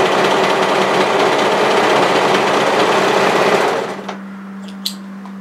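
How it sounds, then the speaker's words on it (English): An overlocker stitches the short straight edge of a fabric band, a fast loud mechanical whir running steadily for several seconds before stopping, followed by a low hum and a couple of small clicks. "Place the band right sides together and overlock the short straight edge."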